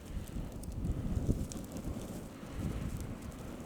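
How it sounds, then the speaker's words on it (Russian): Strong wind buffets the microphone with a low rumbling roar during a wet, thawing blizzard at a country house, steady and close with faint scattered crackles. "Ну, ветер сильный. И метель талая."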